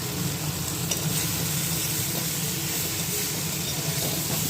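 Small fish sizzling and frying in a hot pan, a steady loud hiss with occasional stirring scrapes, heard close with no talking, while being added to a spiced base for a fish curry.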